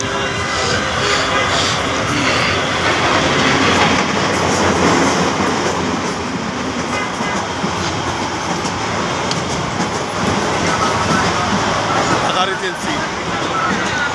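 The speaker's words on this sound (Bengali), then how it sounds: "ট্রেন যাচ্ছে দেখেন" A train passing in Dhaka as it heads into the Airport station: a loud, continuous rumble of rolling wagons and steady rail noise, with voices heard over it.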